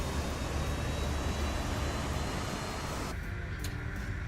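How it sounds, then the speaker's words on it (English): Aerosoft CRJ regional jet engines in Microsoft Flight Simulator 2024, a steady broadband roar that fills the whole clip, with the upper hiss dropping away abruptly near the end while the low rumble continues. "Sounds just like a jet, doesn't it?"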